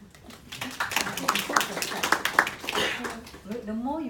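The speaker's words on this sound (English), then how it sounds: "People clap." A small group of people clapping, scattered irregular claps rising and falling over about four seconds, fairly close, with a voice speaking briefly at the end.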